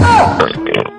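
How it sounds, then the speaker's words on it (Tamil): One loud, close burp rolls out as a long guttural belch with a rough, gurgling tail in a comedy skit. "ஏப்பம் விட்டியா?"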